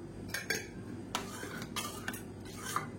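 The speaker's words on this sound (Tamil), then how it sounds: "இது நல்லா மிக்சிங் ஆகட்டும்." A spoon stirs a black kavuni rice porridge mixture in a pot, making soft, irregular scraping and clinking against the vessel, quiet and close, in several separate strokes.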